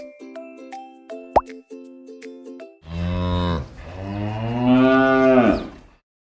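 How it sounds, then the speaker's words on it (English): A cow moos in long, deep, drawn-out calls, the lowing rising and stretching out loud and close after a short playful jingle with a plop. "It's a cow, and the cow sound name is moo."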